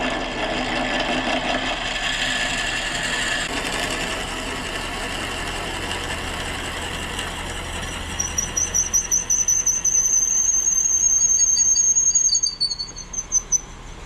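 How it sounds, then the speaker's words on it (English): On a lathe, a drill bit bores into a wooden whiskey tumbler blank, giving a steady grinding whir with high squeals and rapid chattering bursts toward the end, and no one speaking. "I'm getting ready to use this drill bit to start it."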